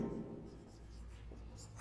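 Pen or chalk writing on a board during a Class 10 trigonometry lesson, a steady scratching stroke that runs close and continuous through the whole short stretch.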